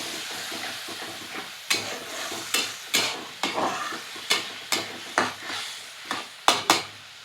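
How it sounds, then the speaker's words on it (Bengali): Green chillies and spring onions being stirred in a hot pan for a Bengali fish curry, a soft steady sizzle punctuated by a dozen or so sharp, evenly spaced spatula scrapes close by. "কাঁচা লঙ্কা দিয়ে একটু নেড়ে দেবো"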